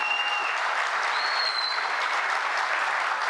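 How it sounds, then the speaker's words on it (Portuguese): Steady applause from an audience at a Brazilian government signing ceremony, dense and continuous throughout, with a faint whistle rising above the clapping. "Uma salva de palmas a ela."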